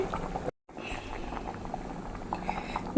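A Kerala-style fish head curry simmers on a low flame, its gravy bubbling softly and steadily, with a brief dropout and a faint clink near the end.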